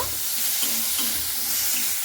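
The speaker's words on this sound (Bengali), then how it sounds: "খুব ভালো করে একটু নাড়াচাড়া করে নিতে হবে আলুগুলোকে" Potatoes frying in a pan with salt and turmeric while being stirred, a continuous sizzle under repeated scraping strokes of the spatula, no talking.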